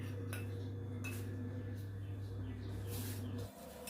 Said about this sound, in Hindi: मैं बर्तन मांज के और इनको धो के इनको रख दूँगी निचोड़ने के लिए